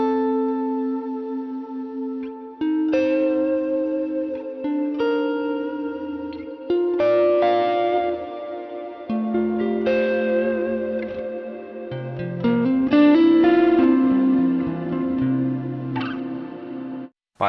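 Electric guitar chords and melodic phrases ring out with a lush, lingering reverb tail from a Scuffham S-Gear amp plugin, played continuously with no talking.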